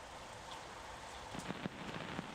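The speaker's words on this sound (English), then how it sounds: "So we got the rain. It's got that background noise." Steady rainfall hiss from a sampled rain loop on an SP404 MKII fills the background, with a few sharper drop-like taps near the end; fairly quiet and continuous, no voices.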